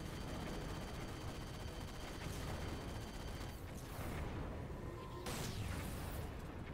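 Rapid, continuous gunfire in the video game Halo 4, dense and sustained across the whole stretch with bursts overlapping, loud and close, without any speech over it.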